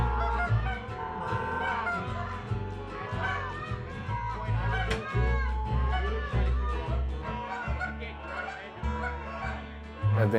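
Goose honks imitated on a goose call by a hunter, a rapid string of loud, close, raspy honks and clucks in uneven rhythm with barely a pause between them.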